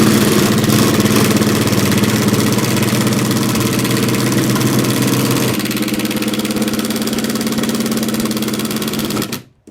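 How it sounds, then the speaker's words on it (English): Cordless impact drivers, Ryobi, AEG and Milwaukee, driving galvanized 10 gauge 50mm screws, giving a loud continuous rattling hammer-and-motor drone that runs nearly ten seconds before cutting off abruptly. "I'm going to be driving some galvanized 10 gauge 50mm long screws"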